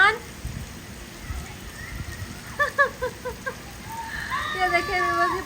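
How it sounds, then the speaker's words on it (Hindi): Steady rain hisses continuously, with some water splashing and faint voices talking partway through. "मुसलसल एक लेवल की बारिश हो रही है, एक स्पीड से"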